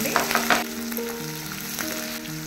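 Chopped green chillies and onion fry in hot oil with whole garam masala spices for paneer pulao, a loud close sizzle with a few stirring knocks near the start, no voices.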